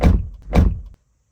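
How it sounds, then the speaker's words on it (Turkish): The door of a new Audi A5 Sedan shuts twice in quick succession, two solid, deep close thunks followed by silence. "Kapı kapanışı bildiğiniz gibi."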